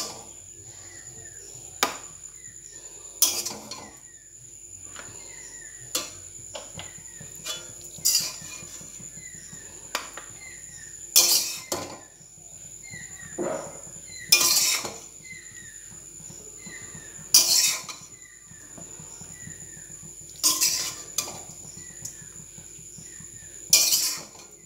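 A spoon clinks against dishes while chire pulao, a flattened-rice pilaf, is packed into a tiffin box. The bright metallic taps come in irregular bursts over a quiet background and no one speaks.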